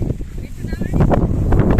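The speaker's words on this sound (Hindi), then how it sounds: "हवा ज्यादा है, हवा चलने नहीं दे रही मुझे" Strong wind blowing outdoors in a rural area where grass is being carried, roaring and buffeting the microphone as a steady broadband rush that grows louder in the second half, with voices faintly under it.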